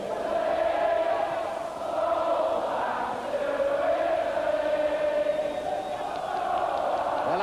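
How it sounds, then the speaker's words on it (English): A large Liverpool football crowd at Anfield sings together in a sustained, loud, distant-sounding chant that swells and dips without breaks. "And now the crowd singing, "Go back to Italy.""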